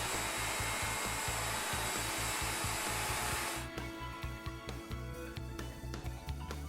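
A router cutting a tenon in a Leigh FMT mortise and tenon jig, a loud steady motor whine with a rapid rhythmic chatter against the wood, easing into a rougher, less even cut partway through.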